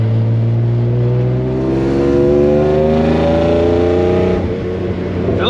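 BMW drift car engine fitted with an M50 intake manifold and tuned ECU, revving loud and steady under sustained throttle, harmonics climbing as revs build then dropping near the end, with no talk.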